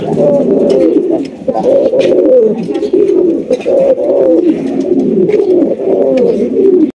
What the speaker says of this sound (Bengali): একদম খুবই সুন্দর কিউট একটা কবুতর